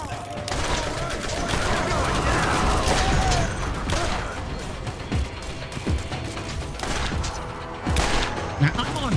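Pistol fire from a Borderlands shooter match rips out in dense bursts of repeated shots mixed with impacts and crashing game effects, loud and continuous, with a player voice talking over parts of it.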